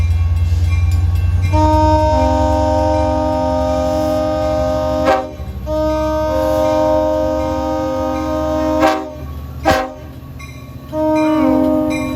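A train horn on the Montauk Branch blows loud and long in several sustained blasts with brief breaks, over the rumble of a passing train.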